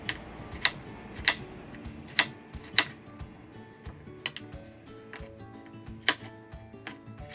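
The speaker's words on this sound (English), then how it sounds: "I will also go ahead and chop the apple into smaller pieces" A knife chops an apple into smaller pieces on a board, giving a series of sharp, irregular taps, several clustered early and a few more spaced out later, close and moderately loud.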